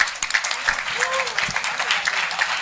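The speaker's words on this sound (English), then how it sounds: "Big round of applause for Karan and Meera" Audience applause at a book launch, a burst of dense clapping heard together with voices and chatter across the room.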